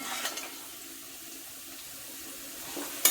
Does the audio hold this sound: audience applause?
no